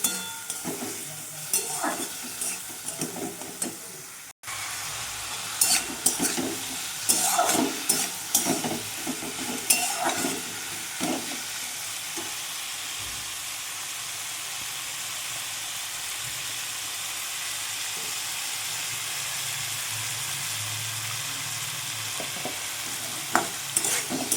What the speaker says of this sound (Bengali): মশলাটা দিয়ে একটু কষবো।